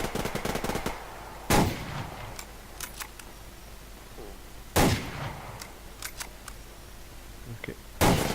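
Sniper rifle shots in the video game Survarium ring out as three loud, sharp single cracks spaced a few seconds apart, with faint clicks and game sounds in between.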